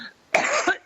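A single sharp, close cough bursts out, followed by a short second cough, in a quiet room.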